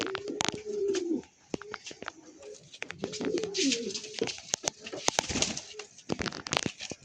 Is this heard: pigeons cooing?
yes